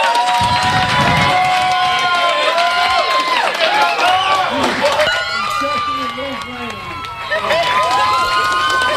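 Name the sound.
crowd applause and cheering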